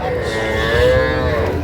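A bull calf at a cattle market lets out one long, loud moo close by, drawn out with a wavering pitch over a low background murmur.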